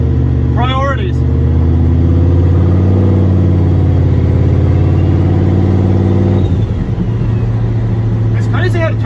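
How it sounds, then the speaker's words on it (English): Inside a turbocharged LS-swapped Caravan while driving, the engine drones steadily with a turbo whistle that shifts pitch as it spools, close and loud throughout. Someone talks over it near the start and end. "It's crazy how the turbo is louder now."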